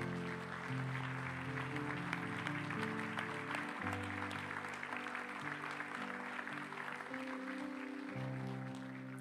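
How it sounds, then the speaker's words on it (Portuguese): A church congregation applauds during a Portuguese-language evening worship service, a steady wash of clapping held over sustained music chords for the whole stretch. "Vamos aplaudir o nome de Jesus."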